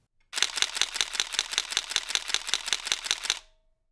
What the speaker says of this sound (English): here's how that glorious shutter still sounds